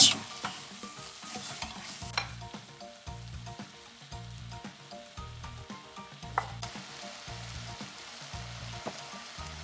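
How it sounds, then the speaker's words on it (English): About two cups of mushrooms are stirred in a sizzling frying pan, with steady frying hiss under a regular rhythm of spoon strokes scraping through the pan, close and continuous, with no talk. "I'm going to stir, get everything coated."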